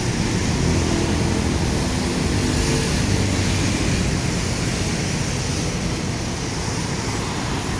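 Sea waves at high tide along Manila Bay by Dolomite Beach on Roxas Boulevard form a constant, loud, broadband rush, steady with no distinct breaks and no voices.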